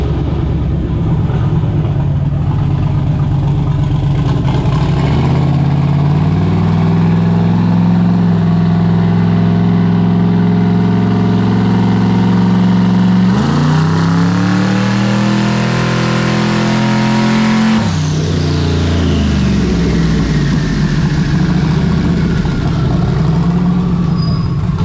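A Chevrolet S10 drag-and-drive truck with a HED setup runs on a dyno, its engine droning at a steady high idle before revving hard, pulling up in pitch, then dropping back and settling, loud and close with no talking.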